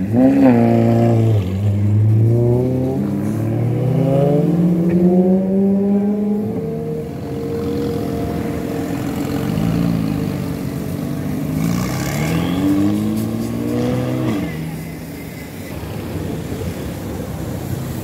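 A Ferrari engine revs in rising and falling sweeps over about eighteen seconds, loud and close, with no speech over it.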